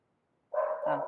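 A single short bark from a female dog rings out close by during an online meeting, after a moment of near silence.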